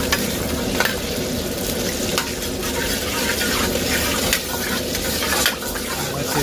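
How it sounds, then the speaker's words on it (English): Garlic and pepper red rock crab stir fry sizzling loudly in a hot wok, a dense continuous hiss with scattered crackles and stirring clinks, close up and without speech. "Good and sizzling here."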